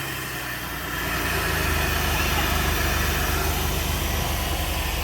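A project truck's motor idles smoothly in a steady, close low rumble that swells slightly after the first second and then holds even.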